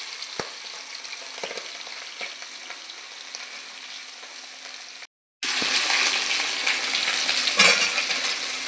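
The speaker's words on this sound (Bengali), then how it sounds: "মাছ ভাজার সময় তেলটা ভালো গরম না হলে কড়াইতে লেগে যাওয়ার ভয় থাকে" Hilsa fish sizzles in hot oil in a wok, a steady bright crackle with faint clinks, briefly cut to silence midway before the frying resumes louder and fuller.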